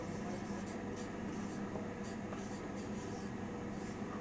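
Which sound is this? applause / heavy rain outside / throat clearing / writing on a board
writing on a board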